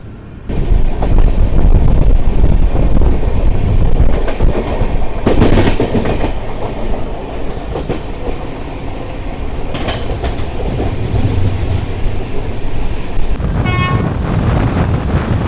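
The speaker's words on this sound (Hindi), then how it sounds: "ये कोई ट्रेन है, अभी हम ओवरटेक कर रहे हैं आला हजरत एक्सप्रेस बरेली" Loud, steady rumble and clatter of a moving Indian passenger train on the Lucknow route as it overtakes the Ala Hazrat Express, with rhythmic wheel clacks, passing gusts and a brief horn toot near the end, no talk.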